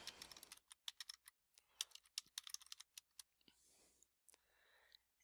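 Rapid keystrokes on a computer keyboard as a folder name is typed, a close sequence of crisp clicks in bursts with brief pauses, ending in a few scattered clicks and a soft rustle.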